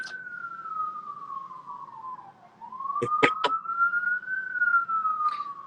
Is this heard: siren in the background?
yes